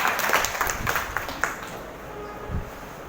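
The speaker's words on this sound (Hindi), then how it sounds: "फिर एक बार जोरदार ताली बजाएं" An audience at a business meeting breaks into brief, loud applause of dense overlapping clapping, which fades within about two seconds.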